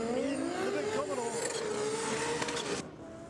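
A Holden Commodore race car engine drones and wavers close by during a burnout with a gritty, tire-scrubbing roar, while a commentator talks over it; the noise cuts off near the end.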